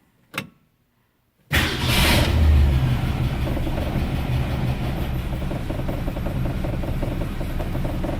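After a brief click and a pause, a 1966 Ford Falcon's engine turns over and runs steadily, with a rough, rhythmic knocking beneath its loud, continuous rumble.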